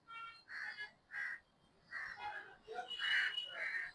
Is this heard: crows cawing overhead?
yes